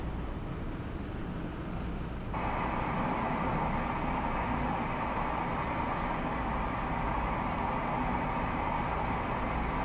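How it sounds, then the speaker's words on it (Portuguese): Steady rain in an outdoor nature scene, an even broadband hiss that jumps louder after a couple of seconds and then holds constant throughout, with no voices present. "O som da chuva."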